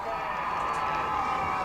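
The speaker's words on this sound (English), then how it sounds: "Crowd's getting in it again." High school football crowd in the stands, cheering in a distant, steady roar that stays fairly faint and even throughout.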